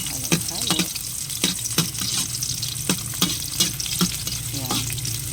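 Onions fry and sizzle in a pan in a backyard dirty kitchen while a utensil stirs them, a steady hiss broken by repeated sharp scraping knocks against the pan.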